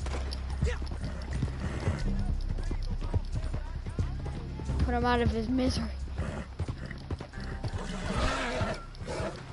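Horse in the Red Dead game, with clip-clop of hooves and a clear neighing whinny midway, under someone talking over game sounds and background noise.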